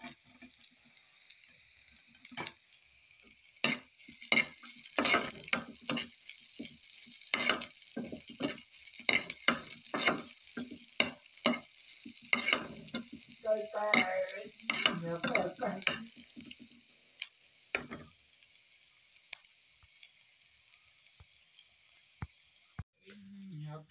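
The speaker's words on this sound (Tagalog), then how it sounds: "I saute slices of onions." Sliced onions and garlic sautéing in a pan, a steady high sizzle under irregular scraping and clacking stirring strokes, with brief faint talk in the middle.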